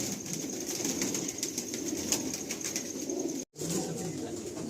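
Old pigeons coo steadily in a pigeon loft, a soft continuous murmur of many birds close by, with occasional faint rustling and a brief dropout near the end.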